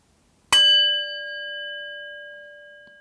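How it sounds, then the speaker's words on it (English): A single bell is struck once after a brief silence, its clear ringing tone sustaining and slowly fading for several seconds. "I will now sound the bell again"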